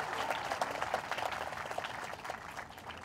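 A congregation at a Maundy Thursday Mass applauds, a brief spell of many hands clapping together in a reverberant church, steady and then slowly easing.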